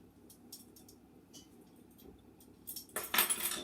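Dry baking ingredients spooned onto a kitchen scale while preparing the dry mix: soft low rustling and light tapping, then a brighter burst of clinking and scraping near the end, close and fairly quiet.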